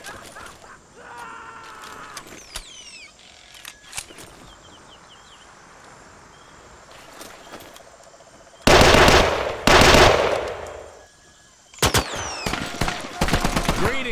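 Covering fire in the Gates of Hell Pacific Theatre campaign mod at the Battle of Alligator Creek: loud, close bursts of machine-gun fire in two rapid clusters over quieter battlefield ambience and distant shots.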